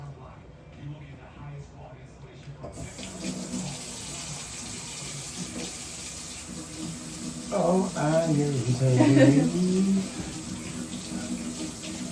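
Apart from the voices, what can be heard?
water running from a faucet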